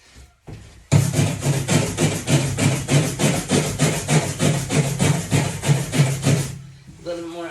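Rust is scrubbed off the metal body of a short bus in quick, steady back-and-forth rasping strokes, loud and close, running for several seconds before stopping, with a voice briefly heard at the end.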